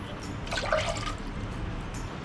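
A brief gush of water pours into a cooking pot for mutton pulao stock, lasting under a second, then fades into quiet room noise.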